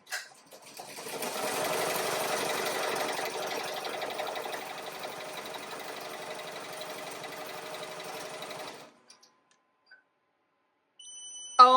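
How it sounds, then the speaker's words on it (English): An embroidery sewing machine stitching out a custom patch whirs steadily and close for about nine seconds, then stops abruptly, leaving near silence before a brief clatter at the end. "we're just gonna go ahead and finish stitching this out"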